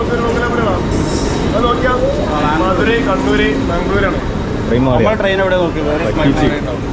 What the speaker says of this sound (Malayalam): നീണ്ട കാത്തിരിപ്പിന് ശേഷം ട്രെയിൻ വന്നിരിക്കുകയാണ്